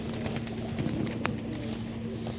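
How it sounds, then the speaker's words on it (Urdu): Sialkoti pigeons coo softly in a low, steady murmur, with a constant hum and scattered clicks in the background. "تو یہ دیکھیں سیال کوٹی کبوتر"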